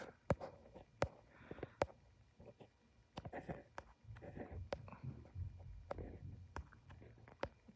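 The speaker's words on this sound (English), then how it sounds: "let me draw little circles" A pen scratches out small looping circles on paper, each stroke marked by sharp ticks. The faint scribbling comes in quick, uneven bursts, close and quiet, with no talking.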